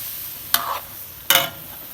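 Eggs sizzle as they are stir-fried in a pot, with two quick scraping stirs that each set off a brief burst of frying hiss over a low background sizzle.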